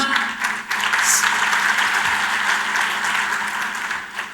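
Dense, steady audience applause fills a hall during the closing session of a spiritual conference, loud and continuous throughout with no speech over it.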